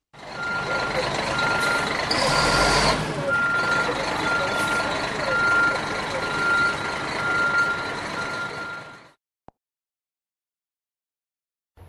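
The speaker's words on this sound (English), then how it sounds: "The tow truck operator pulls up the car with a wheel lift." A tow truck reverses with a steady run of backup beeps over its engine, close and loud for about nine seconds before cutting off to near silence.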